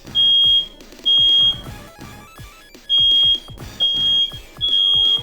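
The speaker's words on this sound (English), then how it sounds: "how do I turn off the fire alarm?" A kitchen smoke alarm shrieks in loud, piercing beeps, five long tones with short gaps, over faint clattering in the background.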